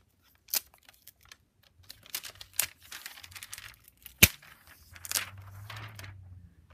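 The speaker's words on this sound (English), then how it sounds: "So, let's take off the plastic," Protective plastic film peeled off a Microsoft Surface Pro 3 tablet: soft crinkling and tearing rustles in short bursts with scattered taps and handling clicks, one sharper snap near the middle, close and fairly quiet.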